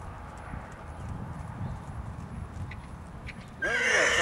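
A horse neighs loudly near the end over a steady bed of outdoor noise at a horse event in Gooik, with hoof clopping mixed into the background.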